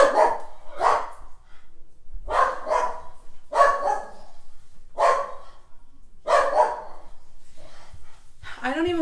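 A dog barks indoors in repeated loud double and triple barks at a steady pace, close by, with a brief higher yelp near the end.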